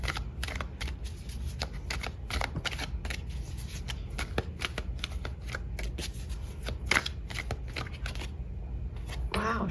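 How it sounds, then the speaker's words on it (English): Tarot cards shuffled and flipped steadily by hand, a dense run of crisp riffling flicks and slaps with brief pauses, close and fairly loud, with no talking over it. "I'm gonna pull a card on the 3 of Wands"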